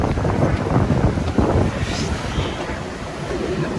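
Surf breaking along a seaside cliff path reached by steep stairs, with steady wind buffeting the microphone in a continuous broadband roar, no pauses and no talking.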